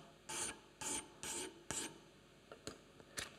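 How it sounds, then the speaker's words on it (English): A moulding plane's steel is rubbed on a fast-cutting, super-fine abrasive stone in seven close, distinct rasping strokes. The first four are longer, and the last three are quicker and shorter. "This cuts the steel very fast, so you have to be careful not to take too much off."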